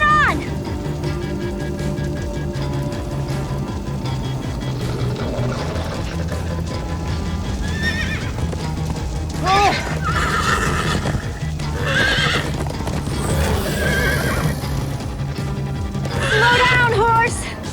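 Horses neigh and whinny over steady clip-clop hooves and a busy music track in Minecraft: Story Mode, with voices calling out at moments.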